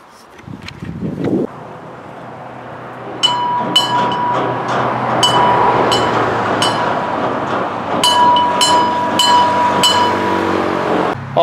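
A small engine on a hobby train cranks and tries to start, then a steady mechanical running hum with repeated metallic clinks and tonal squeals on top, fairly close and continuous.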